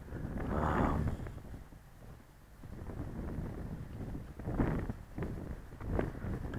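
Strong wind buffets a microphone in an open park on a hilltop, roaring in heavy gusts that swell and ease with no voices present.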